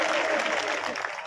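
A crowd at a Kshatriya community gathering in Patan applauds in a brief, dense wash of clapping.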